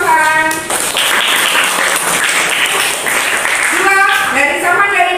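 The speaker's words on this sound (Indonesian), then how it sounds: "aplaus untuk sampan" Classroom applause, with a crowd of students clapping steadily at close range and voices calling out over it at the start and end.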